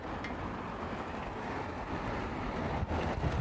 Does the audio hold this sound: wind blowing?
yes